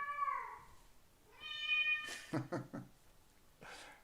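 A deaf cat screams in loud, strained yowls, a short cry followed by a longer wailing one that cracks into rough bursts, then a brief final call.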